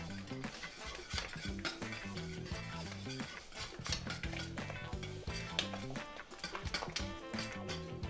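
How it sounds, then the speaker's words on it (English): A spoon stirs soup around a pot after blended vegetables are poured back in, scraping and clinking steadily against the sides in a continuous, busy rhythm with no talking. "let's dump this back into our soup. Mix this all around."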